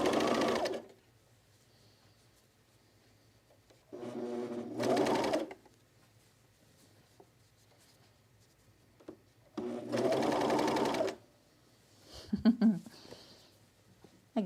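A sewing machine stitches button-down shirt fabric in several bursts of a few seconds each, close and clear, with quiet pauses between runs and brief handling noises near the end.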